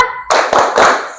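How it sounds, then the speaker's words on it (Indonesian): Pupils in a classroom lesson do a rhythmic spirit clap, loud and close, sounding as short bursts of hand claps in a quick patterned beat. "agar kita semangat pada kesempatan kali ini, tepuk semangat dulu ya."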